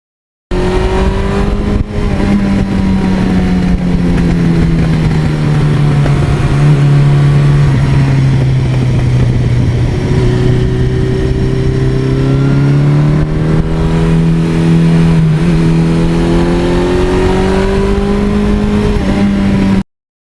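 A 1982 Suzuki GS1100E motorcycle engine runs loud and close, its steady low drone dipping and then rising again as the revs shift, with no talk over it.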